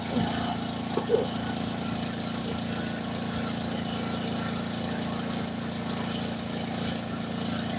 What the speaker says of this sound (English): He had to get a new carburetor for his wood splitter. They just got it going.